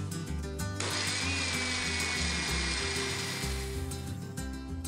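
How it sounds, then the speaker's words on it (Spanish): A kitchen blender whirs steadily while grinding cooked chiles with their cooking water for a beef stew, a loud motor drone that starts after a brief lower hum and runs continuously to the end. "Agregamos los chiles al vaso de la licuadora con agua de la cocción de los mismos y los licuamos."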